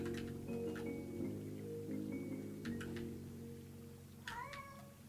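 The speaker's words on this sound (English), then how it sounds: "Oh my gosh, my cat is going crazy again." A pet cat meows insistently: drawn-out cries come through faintly over a low steady drone, ending in a sharper rising meow near the end.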